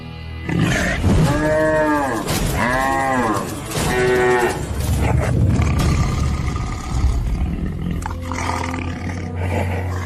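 Cartoon cow mooing in an animated Telugu story, several loud drawn-out moos in quick succession up close, followed by rumbling growls and a steady low drone.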